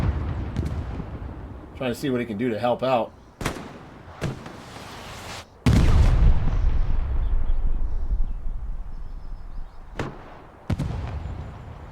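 Gunfire and explosions in a competitive match of a World War II shooter game, with sharp cracks and heavy booming blasts scattered through, beneath a commentator talking.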